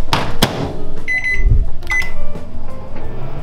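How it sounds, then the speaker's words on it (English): A microwave oven heating a frozen fish and sauce meal tray gives a few loud thumps and clicks, short beeps, and a low, fluctuating running hum, close by and with no talk. "Microwave fish and sauce tray for 2 minutes."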